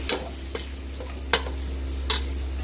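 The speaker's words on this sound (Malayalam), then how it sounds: "ഈ മുളക് പൊടിയും കുരുമുളക് പൊടിയും എല്ലാം കൂടി ആഡ് ചെയ്തിട്ടോ എനിക്ക്. എന്നിട്ട് എല്ലാം ഒന്ന് മിക്സ് ആക്കുക." Spoon stirring chili and pepper powder in a frying pan, with four sparse scraping taps over a steady low hum and faint sizzle.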